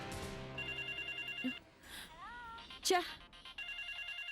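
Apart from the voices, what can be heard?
telephone ringing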